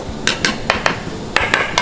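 Metal utensils clanging against a bowl while mixing a Thai spicy salad (yam) at a long-running food stall, seven sharp clinks in an irregular rhythm, close and alone.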